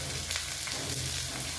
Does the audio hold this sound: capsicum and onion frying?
yes